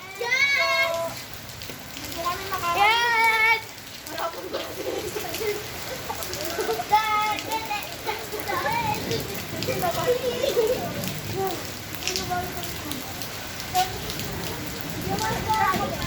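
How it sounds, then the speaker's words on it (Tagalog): Steady heavy rain patters on a surface throughout, with children's voices and other chatter rising and falling over it as people dance in the rain. "Ayan, humina na ulan."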